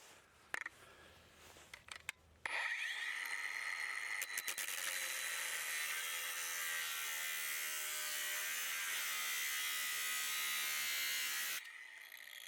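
A RIDGID 18V brushless 7-inch grinder cuts 1/8 inch angle iron. A few faint knocks come first, then a loud, high, steady whine runs for about nine seconds before stopping abruptly.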